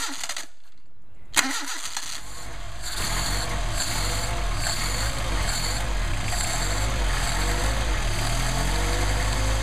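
A Mercedes-Benz 190SL engine with Solex carburetors cranks briefly from cold, catches on choke and settles into a fast, steady idle that continues evenly, with no talking.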